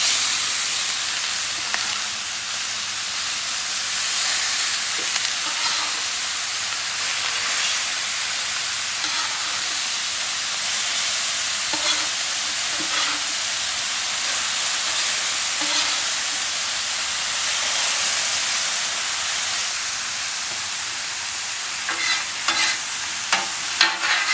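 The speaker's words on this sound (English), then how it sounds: "Just start sauteing your mushrooms." Mushrooms sauteing in a little oil on a hot griddle: a steady, loud, bright sizzle runs continuously for over twenty seconds, with a few faint scraping clicks of a spatula near the end and no talking.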